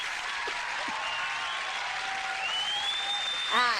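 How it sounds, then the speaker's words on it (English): Audience applause at a county council gathering honoring a former Greenwood County Council member, a steady broadband patter sustained through the moment with a faint tone and a voice rising near the end. "That deserves a big big clap, doesn't it?"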